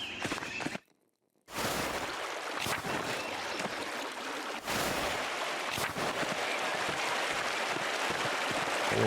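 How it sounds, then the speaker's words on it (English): Steady rushing water from a waterfall in the video game Pentiment, a broad continuous roar that drops out briefly near the start before resuming, with no talk over it. "The waterfall must slow down from the snow melt in the mountains above the abbey."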